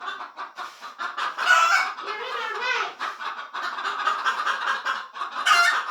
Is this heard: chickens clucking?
yes